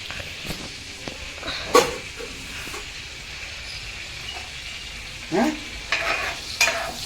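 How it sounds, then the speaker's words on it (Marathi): Cumin seeds sizzle in melted butter in a pan on the stove, a faint steady frying hiss broken by a few brief stirring clatters and scrapes, with no voices. "वरती पॅन मध्ये बटर टाकलंय. आता जिरा टाकते."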